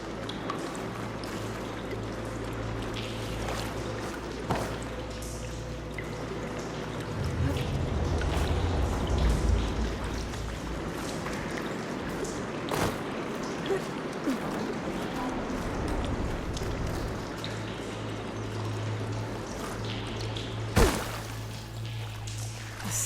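Water rushes through pipes in a valve system in Horizon Forbidden West, a steady pouring flow over a low droning hum, with a sharp knock near the end.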